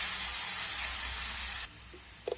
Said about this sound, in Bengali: এখন আমি এই ম্যারিনেট করে রাখা চিকেনটা তেলে দিয়ে ভেজে নেব।